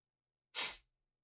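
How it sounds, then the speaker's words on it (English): A single close, loud sneeze bursts out in one sharp explosive blast with a breathy tail, alone against silence. "I sneezed."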